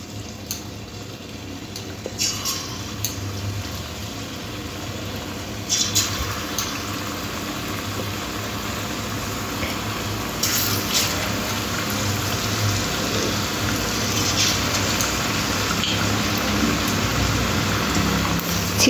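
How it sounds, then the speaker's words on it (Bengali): Chicken pieces drop one by one into hot oil in a pan over a medium gas flame and deep-fry with a steady, dense crackling hiss, with a few louder bursts as pieces go in. "এবার তেলের মধ্যে একটা একটা করে এইভাবে দিয়ে দেব। দিয়ে লাল লাল করে ভেজে নেব"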